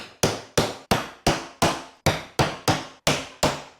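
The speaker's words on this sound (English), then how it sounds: "Now I'm just gonna pound these carriage bolts in so that way there's a nice tight fit between them and the wood" A hammer drives carriage bolts into a wooden board on a modified Harbor Freight hydraulic lift table, striking about ten times in a steady, evenly spaced rhythm. Each blow is loud and close, with a sharp crack and short ring.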